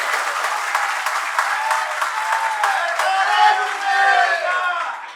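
An audience at a Jain religious discourse bursts into steady, loud applause that fills the hall evenly for several seconds before tapering off, with no voices over it.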